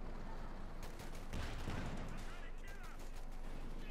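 Sherman tank gunfire in the video game Company of Heroes 2 crackles as repeated shots and bursts under battle noise, with a commentator talking over it.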